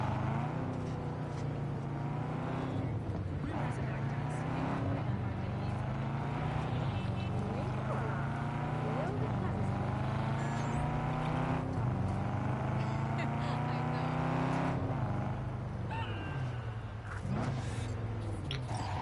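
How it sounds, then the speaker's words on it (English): Car engine in the video game Cyberpunk 2077, a throaty muscle-car rumble somewhere between a Mustang and a Camaro, droning steadily with repeated revs and gear shifts throughout, loud and continuous. "It's almost like a Mustang and a Camaro at the same time."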